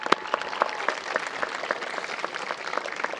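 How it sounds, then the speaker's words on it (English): An audience at an elementary school moving-up ceremony gives sustained applause, a steady, fairly distant patter of many hands clapping with no pauses. "Give them a big round of applause."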